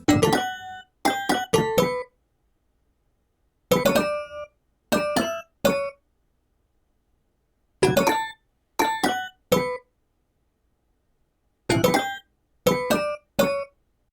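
A glass jar tapped in a bright, ringing melody: quick clusters of three or four clinking notes, separated by short silences, played alone and up close.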